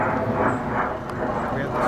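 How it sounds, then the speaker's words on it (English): An airplane drones steadily overhead near a cafe in the countryside, a continuous low rumble that fills the whole moment, with no voices over it. "every time, another airplane."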